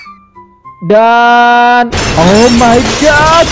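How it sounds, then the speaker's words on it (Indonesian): A basketball smashes a glass window in the Roblox video game: a sudden, loud, noisy crash bursts in right after a sustained tone, and a voice exclaims over it. "Sepertinya ada suara pecahan kaca deh dari bawah."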